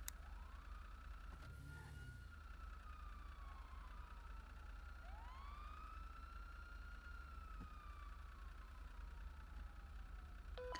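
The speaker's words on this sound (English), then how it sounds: "Uh-oh, I hear sirens." Wailing police sirens in GTA roleplay, rising and falling across several sweeps at moderate distance over a steady low rumble, with no talk.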